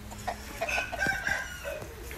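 A chicken clucks and crows in a short cluster of squawks over a low, steady background rumble. The calls are fairly near, with no voices over them.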